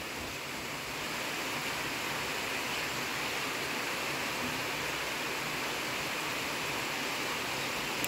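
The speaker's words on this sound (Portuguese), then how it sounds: "Tá chovendo, tá dando pra ver aí?" Steady rainfall roars continuously at close range, a broad, unbroken wash of noise with no voices or other sounds over it.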